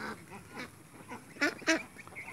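Pekin (Beijing breed) ducks on a duck farm in Pabna, Bangladesh, give a few short, nasal quacks and honks in quick bursts, moderately near but fairly quiet, with no voices.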